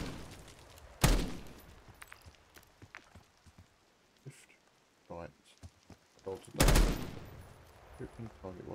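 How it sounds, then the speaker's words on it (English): Two loud, sharp gunshots in Black Ops 6 ring out, each with a short decaying tail, set between quieter clicks, footsteps and scattered game sounds, with a voice talking over parts of it. "Shooting target while driving right."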